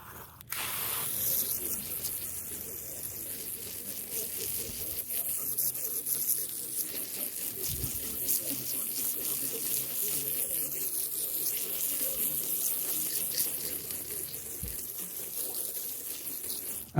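Water spraying steadily onto a deck being washed with degreaser, a continuous hissing wash that runs for the whole stretch, fairly close and even in loudness, with no talking over it.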